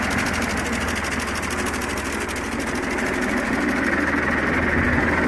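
An I&J sickle mower runs with its upper and lower blades cutting together, giving a steady, fairly loud mechanical chatter with a fast, even rhythm that holds throughout, with no talking.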